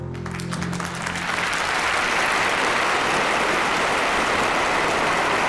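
A large assembled crowd claps for Stalin, loud dense applause swelling in as music fades and then holding steady and sustained to the end.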